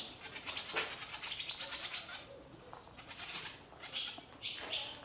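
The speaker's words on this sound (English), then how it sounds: "We do have a lot of these birds. I think they're barn swallows." Barn swallows flutter and twitter in quick, faint bursts, with several clusters of high chirps and wingbeats spaced across the moment.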